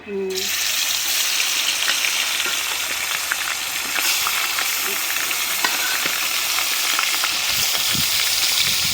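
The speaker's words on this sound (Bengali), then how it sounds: "তেল গরম হয়ে গেছে, এখন মাছ দিয়ে দিই কি?" Koi fish sizzle and crackle steadily in hot oil in a home kitchen, a dense continuous frying hiss with occasional pops and faint stirring clatter, loud and close throughout.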